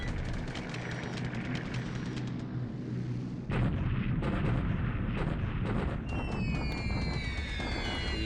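Bombing effects from the wargame War in the Pacific over Hong Kong: loud rolling explosions and rumbling blasts, a heavier burst partway through, with crackling debris near the end.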